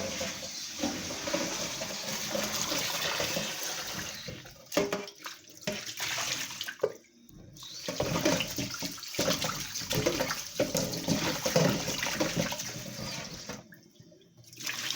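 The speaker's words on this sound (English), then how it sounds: "I am about to wash my ginger" Running tap water splashes steadily over peeled ginger, breaking off into brief pauses several times as the ginger is handled and rinsed, with no talking.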